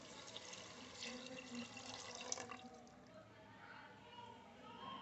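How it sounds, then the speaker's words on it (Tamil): Water pours steadily into a pot for cooking mushroom biryani, a continuous splashing rush that fades out partway through, with kitchen background noise continuing. "அதுக்கு வந்துட்டு 4 டம்ளர் தண்ணி ஊற்றிக்கணும்."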